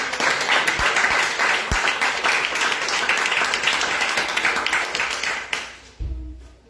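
A congregation at a Spanish-language church service breaks into thick, loud applause that holds steady for about five seconds, then thins out and stops abruptly.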